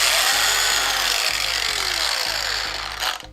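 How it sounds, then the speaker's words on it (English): A battery-powered Proxxon long-neck variable-speed angle grinder runs steadily on wood for woodturning, a close, continuous whine with a sustained high hiss, its pitch dipping and recovering in repeated sweeps before it spins down at the end. "I was able to buy a Proxon long neck angle grinder, battery powered,"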